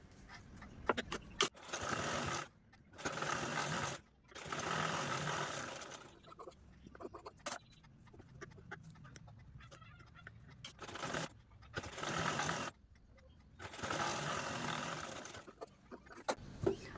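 Sewing machine stitching piping onto fabric for a blouse: several loud whirring runs of a few seconds each, close up, separated by short pauses with faint handling clicks.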